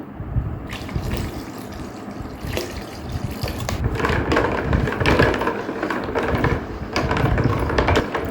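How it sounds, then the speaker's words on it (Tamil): Vinegar, about two hundred grams, poured for a homemade floor cleaner with alum, making a steady splashing, gushing liquid sound that runs throughout, fairly close and continuous with no talk over it. "இது கூட இரநூறு கிராம் வினிகர் ஊற்றிக்கலாம்"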